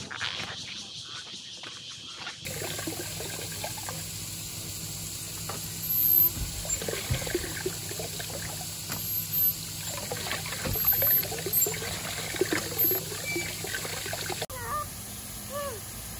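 Water scooped and poured at a hand-pump well in a wetland on a hot day: steady trickling and splashing over a continuous background drone, with irregular louder pours and spills throughout.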